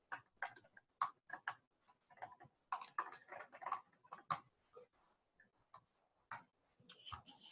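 Crisp keystrokes tapped out on a computer keyboard in irregular bursts and pauses, close and quiet, with no voices.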